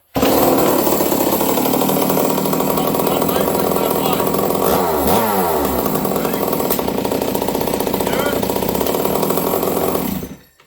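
Ported Stihl 038 Magnum chainsaw running loud and close, a continuous raspy engine roar with a brief rev change midway, cutting off abruptly at the end; a voice can be heard.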